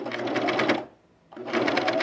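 Sewing machine stitching through thick layers of fabric, a steady loud motor whir with rapid needle chatter that stops for about half a second, then starts again at the same pace.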